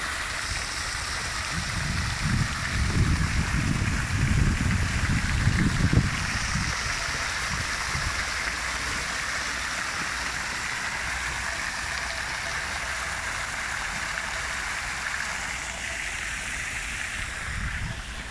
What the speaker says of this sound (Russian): Вот фонтан.